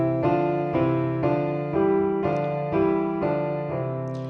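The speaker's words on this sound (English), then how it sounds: "you'll notice that I am playing in what we call parallel motion" Piano exercise with both hands moving in parallel an octave apart, nine evenly spaced sustained chords played in a steady rhythm, close and clear with no talking.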